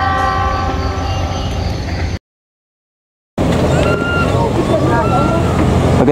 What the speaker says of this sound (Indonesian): Selamat jalan kereta api Argo Wilis, semoga lancar selamat sampai tujuan